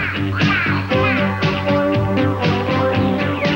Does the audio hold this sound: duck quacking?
yes